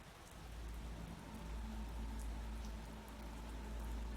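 Steady rain pours at an Indian Air Force advanced landing ground near the Siachen Glacier, a dense even hiss with a low rumble beneath, no voices.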